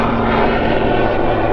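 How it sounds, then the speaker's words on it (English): A continuous engine drone of a helicopter overhead, steady and fairly loud throughout, with a low rumbling hum and no talking. "sorry for the helicopter in the background"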